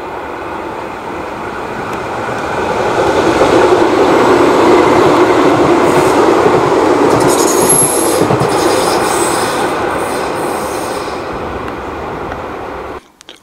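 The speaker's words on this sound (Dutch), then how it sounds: "En die herrie is eigenlijk, ik denk door de constructie van de trams." New trams pass at high speed, a loud rumbling roar with wheel squeal that swells to a peak mid-pass and then slowly fades, with no voices.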